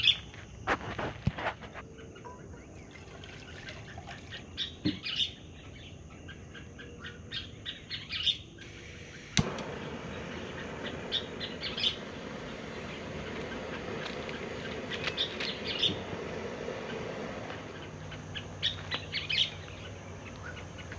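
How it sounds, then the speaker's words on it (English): Loud, repeated bird calls and chirps ring out across an outdoor scene over a low background hum, with bursts recurring every couple of seconds. "I don't know what kind of bird's making that noise, but they're loud."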